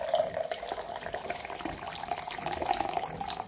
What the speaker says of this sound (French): 400 ml d'eau bouillante.